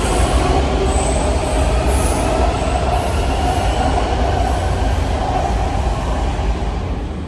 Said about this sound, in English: This is an Orange Line train to New Carrollton